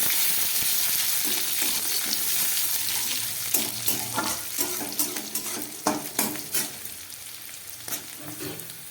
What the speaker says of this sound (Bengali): পেঁয়াজ রসুনটা অনেকটাই ভাজা হয়ে গেছে। এবার আমি দিয়ে দিচ্ছি এর মধ্যে কাঁচা লঙ্কা।